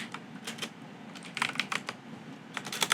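Quiet, close keystrokes on a computer keyboard as a code comment is typed, coming in short irregular bursts of clicks and taps with no speech.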